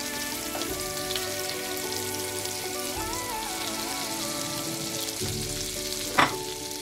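Butter sizzling in a pan for a chicken dish, a steady close hiss and crackle with faint tonal hum beneath and a brief sharp clink near the end, no voices.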